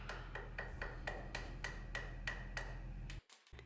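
A chisel is struck to chop away saw cuts in wood while shaping the curve of a wooden marking gauge, giving about a dozen evenly spaced, crisp close knocks, faint and steady with no talking.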